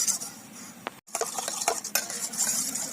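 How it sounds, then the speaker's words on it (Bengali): Onion juice, oil and lemon whisked together in a bowl, close clinking and scraping strokes in an uneven rhythm, with one brief silent break. "এবার এর সঙ্গে ফাটিয়ে নেব একসঙ্গে ভালো করে"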